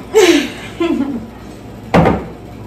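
A refrigerator door swings shut with one soft thud near the end, after a couple of short voiced sounds nearby in a quiet kitchen.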